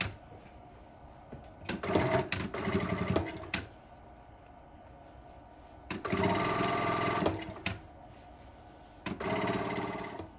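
A sewing machine runs in three bursts of steady stitching along a shirt neckline, each lasting about one to two seconds, separated by quiet pauses with faint room tone.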